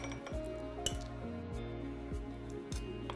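Spoon stirring thick sticky date cake batter with dates in a full mug, producing repeated soft scraping clinks against the ceramic in a steady rhythm, close and fairly quiet with no talking.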